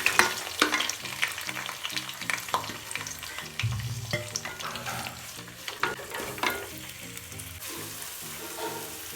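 Onions with curry leaves sautéing in a pan for chicken chukka curry, a continuous close sizzle broken by frequent stirring scrapes, with gentle music underneath.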